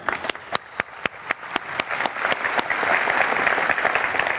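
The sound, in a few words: audience applause for award winners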